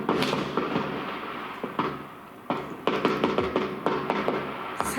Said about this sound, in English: That one was definitely fireworks, though.